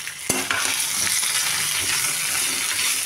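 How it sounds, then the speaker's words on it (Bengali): Pieces of raw green banana and potato fry in a pan with a constant, bright sizzle, punctuated by a sharp clink and stirring scrapes near the start. "এখন আমি এই কাঁচকলাগুলোকে দিয়ে দিলাম। কাঁচকলাগুলো ভাজা হতে থাকুক।"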